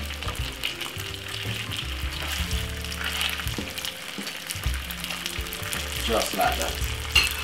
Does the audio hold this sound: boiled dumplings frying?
yes